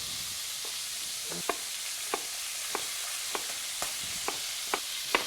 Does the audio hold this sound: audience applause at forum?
no